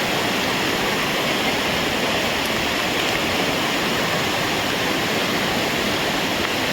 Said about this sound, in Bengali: ওই উপর থেকে ঝর্ণার জলটা পড়ছে,